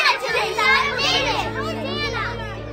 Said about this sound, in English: the children crying out in the temple